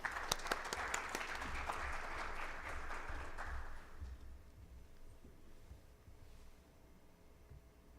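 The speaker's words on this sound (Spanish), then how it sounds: "Les pediré un fuerte aplauso para el doctor Torres" An audience at a medical congress applauds a doctor before his talk, steady dense clapping with a few louder close claps, holding for about four seconds before fading to quiet room hum.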